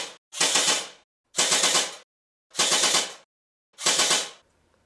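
Four separate sustained bursts of AK rifle automatic fire from the Project Reality SoundMod video game, each lasting under a second with clean silent gaps between them, loud and close with no talking.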